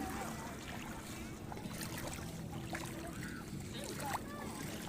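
A small child wades into calm water, making soft splashes and trickling sounds close by while people talk over it.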